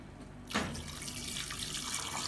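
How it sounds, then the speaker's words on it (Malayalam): Boiled water is poured into a pot of sautéed chicken mandi rice mixture. A steady, splashing gush starts about half a second in and runs on without a break, close and moderately loud, with no talk. "അതിനുശേഷം ഇതിലേക്ക് തിളപ്പിച്ച വെള്ളം ഒഴിക്കാം."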